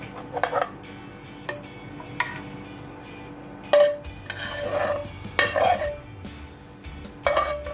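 Stir-fried water mimosa is served from a pan onto a plate with spatula scrapes and taps, and metal and dish clinks come at irregular intervals, sometimes doubled. A low hum continues underneath and nobody speaks.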